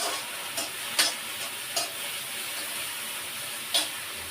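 Turmeric being fried in a tempering (chhonk) for macaroni, a soft steady sizzle with a few sharp spatula scrapes against the pan at irregular intervals.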